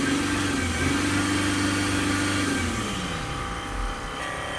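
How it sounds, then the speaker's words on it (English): Mercedes GL350 3.0 V6 diesel, with a diesel particulate filter fault, revved in a workshop, its engine tone rising and holding before dropping back toward idle, loud and close. "Give it a few revs to clear it out."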